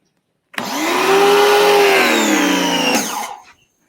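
A Sun Joe SPX2004 electric pressure washer, 2100 PSI, switches on with a sudden loud motor whine, runs at a steady high-pitched hum for about two and a half seconds, then cuts off and winds down.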